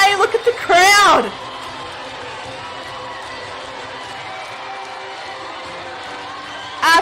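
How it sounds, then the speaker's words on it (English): A basketball arena crowd at an under-18 game between Tanzania and Madagascar sends up a steady roar, with loud excited voices shouting near the start and again at the very end. "Look at the crowd!"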